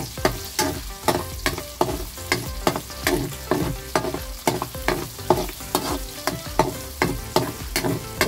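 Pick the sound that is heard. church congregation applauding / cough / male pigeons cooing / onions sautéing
onions sautéing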